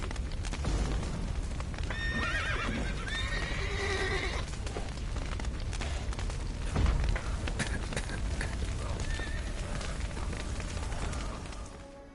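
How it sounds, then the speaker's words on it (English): Horses whinny loudly in the video game Witcher 3 over a dense, noisy scene with rumbling, thuds and clopping hooves, one neigh standing out near the start. "The horses!"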